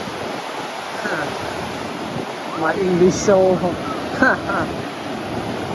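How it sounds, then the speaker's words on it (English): Sea waves wash against a beach in Cambodia while wind blows steadily, forming a constant broadband roar, and someone talks over it through the middle. "listen to the sound of the sea wave"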